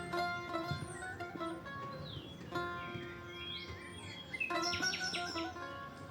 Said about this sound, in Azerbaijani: Quşların cəhcəhi